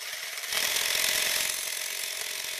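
A domestic sewing machine stitches an embroidery pattern, a steady fast mechanical whirr with rapid ticking that swells briefly louder, then runs on evenly, close and alone.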